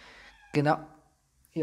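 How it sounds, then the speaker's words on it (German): A pet cat meows once, briefly, in the background during speech, with a person's voice before and after the meow. "der miaut hier im Hintergrund"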